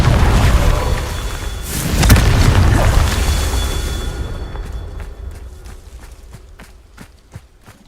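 Confringo blasting spell in Hogwarts Legacy on hard difficulty: a loud, roaring explosion swells and slowly decays into crackling debris and scattered small impacts, standing alone without talk.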